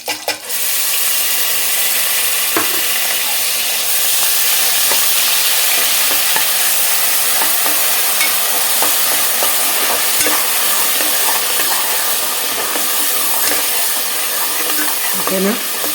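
Ground onion paste, made from two large onions, fries and is stirred in a pan for a Telugu talakaya curry, giving a steady close sizzle with scraping spoon strokes throughout, no talking.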